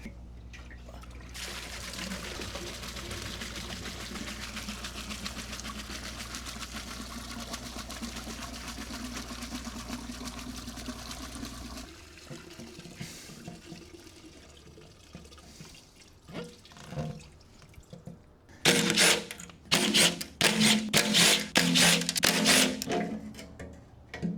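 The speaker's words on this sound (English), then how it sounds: "This is my gasoline bucket. I'm gonna go ahead and dump everything into here." Gasoline drained from a Honda CBR600RR motorcycle pours into a bucket as a steady liquid stream for about twelve seconds, then turns to drips and trickles, ending with louder splashing and sloshing bursts.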